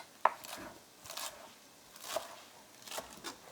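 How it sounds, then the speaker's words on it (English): A knife cuts through kale on a board for ribollita in a few quiet, separate strokes, each with a soft crisp crunch, spaced unevenly with pauses between them. "I'm going to cut the kale."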